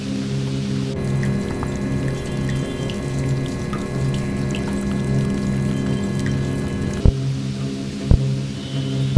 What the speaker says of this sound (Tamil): சென்னை நள்ளிரவு மழை மெதுவாக பெய்து கொண்டிருக்கிறது